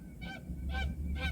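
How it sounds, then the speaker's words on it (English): Canada geese honk outdoors in three evenly spaced, fairly loud nasal calls over steady low background rumble. "this damn Canadian geese out here tripping"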